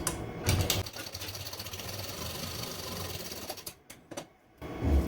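An electric sewing machine stitches a princess-cut blouse with a steady, even motor whir for a few seconds. It then halts briefly and starts up again.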